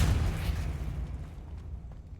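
Depulso spell cast in the Hogwarts video game, a loud booming blast at the start that tails off into a rumbling decay, alone without voices.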